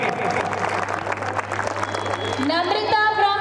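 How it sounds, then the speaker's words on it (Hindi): A school annual day crowd claps steadily to welcome prize-winning children, sustained applause under a hall's murmur before a bright tone rises near the end. "आप सभी से अनुरोध रहेगा, तालियों के साथ इन सभी का स्वागत कीजिए।"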